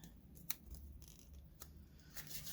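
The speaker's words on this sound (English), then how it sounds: "So let me snip the length that I need." Scissors snip through paper for a junk journal project, a few quick close cuts standing out over a low background hum, with no talking.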